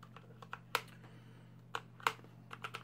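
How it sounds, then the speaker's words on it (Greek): Scattered keystrokes from a mechanical keyboard with red linear switches, a sparse, quiet tapping of soft clacks with a couple of louder strikes, over a low steady hum. "Είναι κόκκινοι διακόπτες. Τους ακούτε ότι δεν κάνουν τόσο έντονο κλικ, είναι πιο πολύ για τους gamers σε σχέση με τους μπλε διακόπτες"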